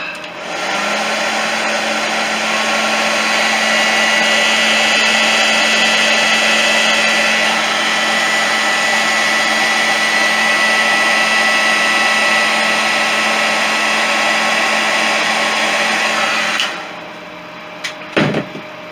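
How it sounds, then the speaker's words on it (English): A heat gun blowing steadily to shrink heat-shrink tubing on a headset cable, a loud continuous whirring hiss with a faint whine that runs unbroken for about sixteen seconds, then cuts off, followed by a couple of small knocks. "We've got a bit of a heat gun in."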